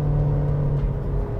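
The engine of a 2024 Nissan Versa sedan held in low gear on a steep climb, giving a steady, loud, close droning rumble at raised revs that barely changes across the short stretch.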